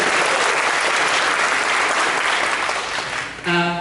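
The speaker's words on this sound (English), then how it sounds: "Can we give these both a round of applause, please?" A crowd at a Star Trek Deep Space Nine convention panel at Pensacon 2019 in Pensacola gives loud, sustained applause that tapers off near the end, as a voice briefly begins.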